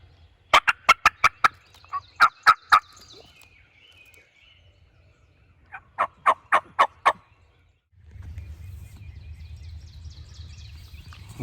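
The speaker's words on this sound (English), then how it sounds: "there is a turkey gobbling his head off" Wild turkey gobbling loudly and close in a morning woodland, two sharp rattling bursts of rapid notes a few seconds apart, followed by a low rumbling background.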